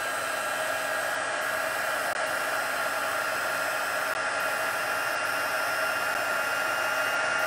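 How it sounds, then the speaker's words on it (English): An embossing heat tool runs steadily on its own, a continuous airy hiss like a hair dryer, fairly close and even throughout as it warms up to set gold embossing powder on a stamped card. "I haven't had my heat tool, well, this heat tool, on today, so it'll take a little bit to warm up."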